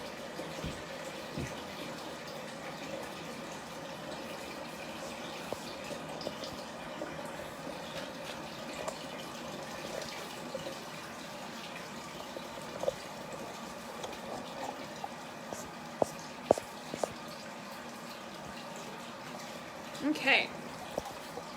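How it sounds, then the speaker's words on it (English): A home kitchen tap runs steadily as hands are rinsed while making dough. The rushing water is continuous, with a few small clinks and brief speech. "Turn the water off."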